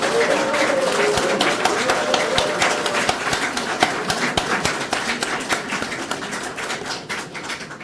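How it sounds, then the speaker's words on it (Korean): Audience applause for candidate Oh Se-hoon at a People Power Party by-election rally, a dense, steady wash of clapping that fills the hall and thins slightly toward the end. "여러분 응원과 격려의 박수를 부탁드립니다"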